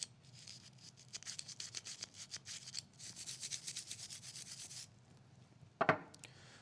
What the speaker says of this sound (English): So we'll go ahead and give it a light scrub.